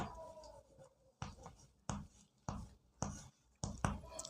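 Quiet pen strokes writing a maths solution, a series of short scratchy bursts on paper at an even pace, close and faint.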